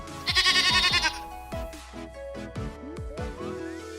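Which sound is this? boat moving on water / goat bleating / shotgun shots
goat bleating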